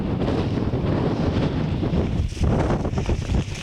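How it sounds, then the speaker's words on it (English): Strong wind buffets the microphone out on open marshland in the peaks, a loud, continuous roaring rumble with brief gusty surges and no voices heard. "Sorry about the wind."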